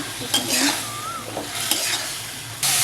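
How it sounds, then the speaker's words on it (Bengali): Prawns stir-fried with masala sizzle in a pan while a spatula scrapes and clinks against the metal in quick, uneven strokes. "চিংড়িটা দেওয়ার পরে মশলাটা সাথে ভালোভাবে একটু কষিয়ে নেব"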